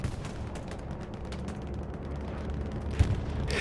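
Distant artillery fire in the battlefield game Hell Let Loose sets off a sustained low rumble of scattered booms, ending in one sharper blast near the end.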